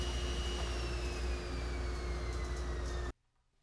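A saw cuts boards to length as they are held clamped to a miter gauge. It makes a loud, steady high whine that falls slightly in pitch under load, then stops abruptly near the end.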